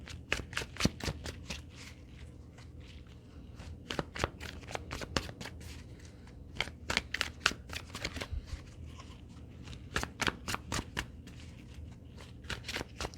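A deck of cards shuffled over and over, repeated crisp riffling bursts and soft snaps in a steady rhythm, close up and alone.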